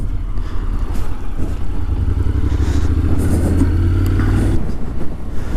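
A motorbike ridden through a village on a nice day, its engine droning steadily and close with a rising tone partway through, wind rushing over it throughout.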